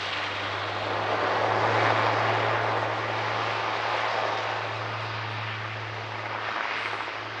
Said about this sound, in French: L'A400M, c'est un avion tactique à grand rayon d'action